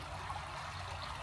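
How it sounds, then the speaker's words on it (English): A creek runs over rocks nearby, a soft, steady trickling and babbling flow with no other sounds. "I have missed the sound of the creek over here."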